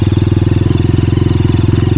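A Honda CRF 230F dirt bike engine runs on a mountain trail, its loud, close, steady idle thumping in a fast even pulse with a slight crackle and no revving.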